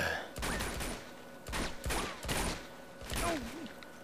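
Gunfire from the shooter game Uncharted 2 comes in several loud bursts of rapid shots, separated by short pauses, with in-game voices and effects under the firing.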